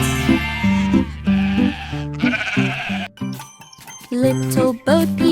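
Sheep bleat repeatedly in a quick series of close, loud, wavering calls, set inside a children's nursery rhyme song with light jingling accents.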